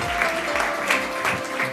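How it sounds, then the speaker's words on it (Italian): An audience applauds a guest at a televised sports show, a steady wash of clapping heard through broadcast hum with a few louder swells, brief and continuous. "un applauso."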